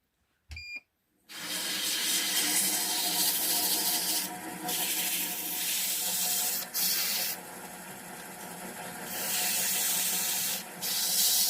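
Steady, close sanding of wood with 120-grit paper, a continuous raspy scrubbing that runs almost the whole time with a few brief pauses, after a short click at the start.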